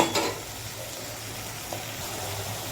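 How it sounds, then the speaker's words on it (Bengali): Onion and garlic fry gently in a pan over a very low gas flame: a soft, even sizzle under a faint low hum, with a brief louder clatter at the start and no talking. "গ্যাসের ফ্লেমটা একবারে কম আছে আমি এই কম কম করেই আমি পেঁয়াজ আর রসুনটা ফ্রাই করে নেব"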